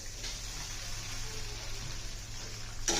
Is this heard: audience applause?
no